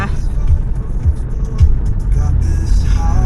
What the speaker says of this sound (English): I'm gonna drive around a little bit to warm up the car